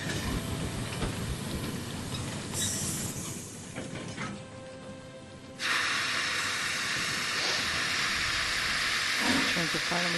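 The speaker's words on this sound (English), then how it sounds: "that's the other train that comes specifically to move snow" A train in Murder on the Orient Express rolls with a constant broad rushing hiss and rumble, dipping briefly before a brighter steam-like roar, with faint voices underneath.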